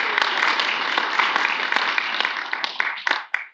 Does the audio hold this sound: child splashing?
no